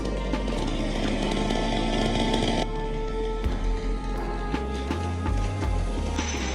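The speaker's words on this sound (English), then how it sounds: "he is a master at using a chainsaw to build a nest for all kinds of birds." A chainsaw cutting trees in a forest, its engine roaring loud and close throughout, the pitch dropping partway through as the load changes, with no voices.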